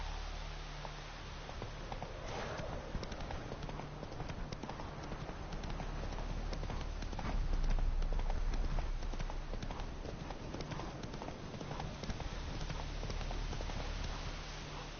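Roach, a horse in The Witcher 3, gallops with steady, rapid hoofbeats that stay close and loud the whole way, over a low rumbling bed of game ambience.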